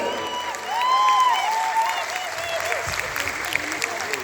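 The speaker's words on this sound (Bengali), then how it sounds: "শিবু স্যারকে একটা জোরদার তালি হবে।" Audience applause honors Shibu sir at a felicitation ceremony, a burst of clapping that swells and then tapers as a few voices and a whistle-like tone carry over it.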